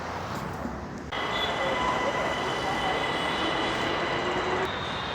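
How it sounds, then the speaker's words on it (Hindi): A metro train at a station in Gurgaon during a blackout, a steady loud rumble of rail cars rising after the first second and holding, with faint squeal-like tones riding over the continuous roar. "मेट्रो स्टेशन पे हूँ तो मेट्रो स्टेशन पे दिख रहा है"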